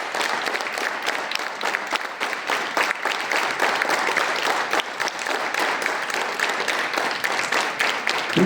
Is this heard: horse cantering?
no